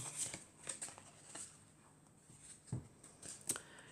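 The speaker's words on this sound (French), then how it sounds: "Alors on va couper et on va prendre cette carte" A tarot deck is cut and a card drawn: a few soft, quiet card flicks and slides, with a brief shuffle-like rustle and light taps spread across a few seconds, faint and close.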